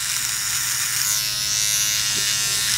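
An electric beard trimmer with a rotating blade buzzes steadily as it trims the edge line of a dry beard, a close, continuous motor hum without talk.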